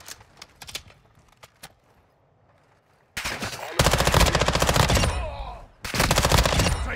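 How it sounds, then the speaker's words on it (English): Rapid automatic gunfire rattles in Call of Duty Warzone DMZ, long loud bursts after a few scattered shots, with a brief pause between the heavy volleys. "Taking effective fire."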